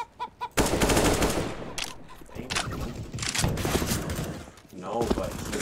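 AK rifle gunfire in the video game CS:GO comes as a few quick opening shots, then dense sustained bursts and rapid fire, loud and close, with a voice speaking over parts of it.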